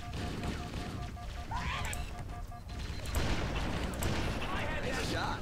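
Gunfire and blasts in Halo fill a dense battle mix, with bursts and a heavier boom near the middle, while voices talk over the fighting throughout.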